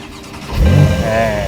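A Porsche sports car's engine cranks and fires, swelling suddenly into a loud, deep roar that settles into a high, steady idle while a voice speaks nearby.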